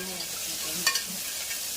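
Tomato masala sautéing in a pan: a steady, soft sizzle of frying with a faint stirring scrape partway through, close and without talk.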